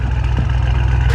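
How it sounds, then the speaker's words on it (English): An Audi R7 with a full exhaust idles, giving a loud, steady low-pitched burble that holds even and unbroken, heard up close. "listen to that R7 just idling"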